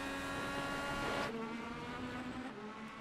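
Onboard sound of an IndyCar race car at Road America, a loud, steady high-revving engine whine that shifts pitch as the car accelerates and changes gear.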